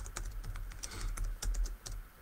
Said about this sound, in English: my typing is very bad